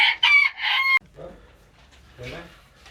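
A rooster crows loudly and close for about a second, followed by softer clucking from chickens nearby.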